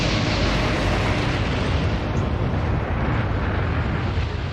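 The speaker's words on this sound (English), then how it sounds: "The devastating effect of a magazine explosion was captured on film 6 months later" A massive, sustained roaring blast from HMS Barham's magazine exploding rumbles loudly and continuously, like a huge explosion that keeps billowing without letting up.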